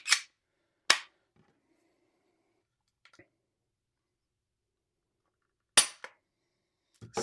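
A Glock G37 pistol chambered in .45 GAP fires several sharp, isolated reports: two close together, a long silent gap, then two more, each a crisp crack with short decay.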